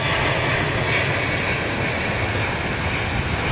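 A Virgin Atlantic Airbus A350 jet at London Heathrow gives a loud, steady, close roar of jet engines that fills the whole stretch without a break.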